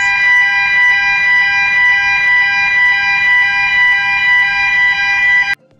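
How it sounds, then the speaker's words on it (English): A loud, steady electronic swimming pool drown alarm tone, high and unwavering for several seconds, then cut off abruptly. "The first is the drown alarm and sounds like this."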